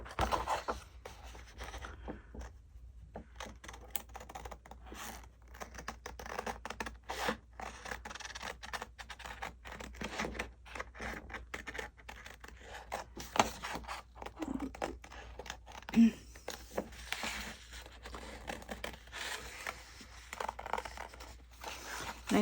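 Scissors snip and paper tears as paper is cut out for a handmade journal page, a close, steady run of small crisp cuts and scratchy scraping with occasional louder snips and no talking.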